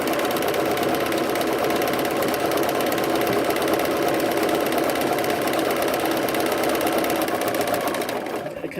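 A sewing machine runs a 3-step zigzag stitch across two lining pieces, joining them for a crochet box or bag; a steady, loud mechanical whirr carries on without a break for several seconds and then tapers off at the end.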